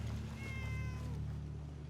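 A cat in Fallout 4 lets out a drawn-out meow, fairly near, over a steady low hum of game ambience.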